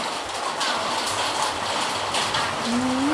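Steady rain falls outdoors at a roadside noodle stall, a constant close hiss that fills the whole stretch, with a brief tonal squeak near the end.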